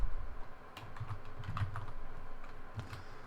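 Someone typing Ruby code on a computer keyboard, a few scattered soft key clicks over a low rumbling background hum, with no voices.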